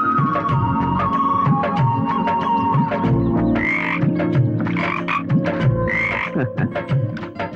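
Loud, continuous frog croaking in a Tamil action thriller film, repeating rhythmically over a steady dense background with no speech.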